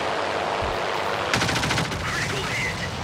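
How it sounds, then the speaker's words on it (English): Wing- and cowling-mounted guns of a MiG fighter plane fire a rapid machine-gun burst during a World of Warplanes dogfight, loud and dense, with engine drone underneath. "I really like the guns on the MiG."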